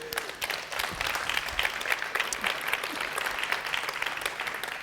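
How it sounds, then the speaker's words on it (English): A lecture audience claps steadily, a dense, fairly close patter of many hands sustained at even loudness from start to finish, with no talk over it. "I applaud you."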